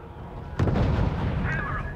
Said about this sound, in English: We're taking artillery fire.